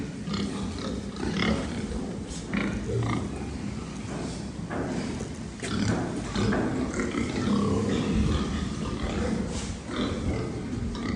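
Several pigs grunt and snort close by in irregular bursts, with rustling and shuffling throughout.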